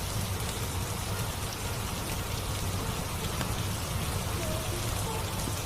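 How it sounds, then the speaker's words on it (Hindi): Steady rain falls on the ground and surfaces around a poor farmer's home. The hiss and patter hold at a constant level throughout, at moderate distance with no voices over it. "बाबा, बारिश अभी भी नहीं रुकी।"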